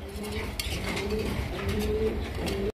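Black Rajgolla pigeons coo in repeated low, soft phrases close by, with a steady background hum throughout.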